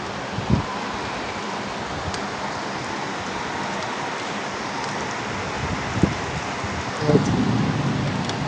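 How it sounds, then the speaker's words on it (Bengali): Heavy rain pours down around a house surrounded by trees, a dense, steady hiss heard close, broken by a few dull thuds and low rumbles. "অনেক বৃষ্টি পড়তেছে, এখন জোরে জোরে পড়তেছে, শব্দ আসতেছে"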